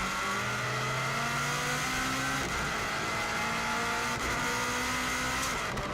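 A 2016 Subaru WRX STI runs flat out on the Isle of Man TT course, its engine roaring loud and steady at high revs throughout, with gear changes shifting the pitch and no one speaking.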